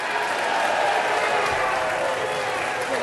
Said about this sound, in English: Like these idiots clapping for him, bro.